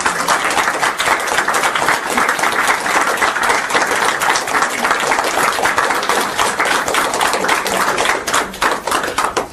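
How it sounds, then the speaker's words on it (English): A large audience claps at the close of a talk, sustained dense applause that stays loud and even throughout, with no speech over it. "We don't always stay for the clapping"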